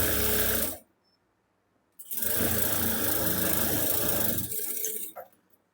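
A sewing machine stitches a blouse button strip with a half-inch margin, running in two close, loud whirring bursts separated by a pause, its motor rattling steadily, with no talking.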